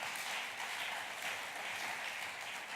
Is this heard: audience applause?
yes